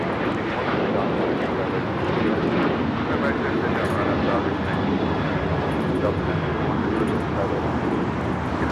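A jet airliner taking off from Los Angeles International Airport (LAX) makes a steady, loud, broadband roar that holds for the whole span, with faint talk in the background.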